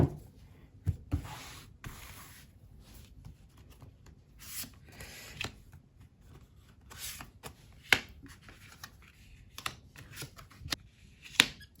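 Tarot cards are shuffled and drawn one by one during a reading, soft papery slides and flicks with sharp snapping taps scattered irregularly, close and fairly quiet.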